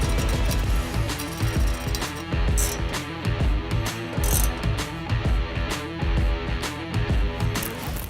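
Ratchet tightening bolts on aftermarket running board brackets of a 2019-2023 Ford Ranger, a dense run of rapid mechanical clicks and metallic clatter, loud and close, continuing steadily throughout with no talk.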